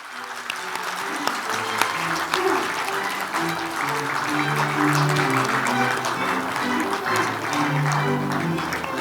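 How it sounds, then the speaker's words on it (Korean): An audience at the 66th 3·1 Culture Prize award ceremony applauds steadily as the humanities and social sciences scholarship recipients walk up to the stage, with dense, sustained clapping from a large crowd and a low murmur of voices beneath it. "수상을 축하하는 뜻으로 큰 박수를 부탁드리겠습니다"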